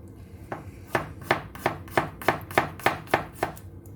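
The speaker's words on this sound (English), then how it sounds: "Let's start with the garlics. Just thinly slice them." Knife slicing garlic cloves thinly on a cutting board: about ten crisp, evenly spaced cuts, close and fairly loud, with no talking.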